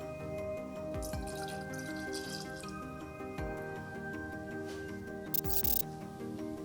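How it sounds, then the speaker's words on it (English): Absolut vodka poured into a cocktail shaker for a lemon drop, a steady close trickle of liquid with brief splashy bursts near the end. "In a cocktail shaker, add 2 ounces of Absolute vodka."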